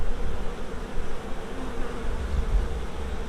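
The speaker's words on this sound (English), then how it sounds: "keep trying to get handfuls of bees off of here" Dense, steady hum of a honey bee swarm buzzing close by during hive handling, a continuous drone with no voices.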